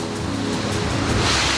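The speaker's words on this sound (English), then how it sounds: "I've reached the ocean." Ocean waves wash at a harbour on the Singapore coast, making a steady broadband rush that swells slightly toward the end, with no talking.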